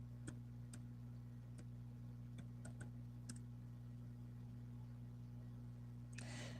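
Sparse clicks of typing on a computer keyboard, faint and irregular under a steady electrical hum, with no talk over them.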